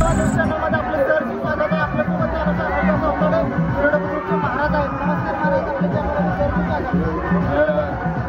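A dense crowd of villagers murmurs and chatters without pause at a village fair around the Shri Hanuman temple in Virwade Budruk, with rides nearby. The babble stays steady and close throughout, with no single voice standing out.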